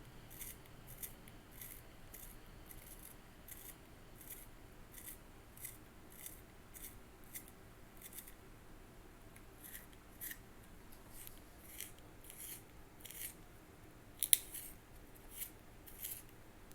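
A manual pencil sharpener grinds at a pencil in steady, evenly spaced crisp scraping strokes that repeat quietly throughout, set against a low room hum.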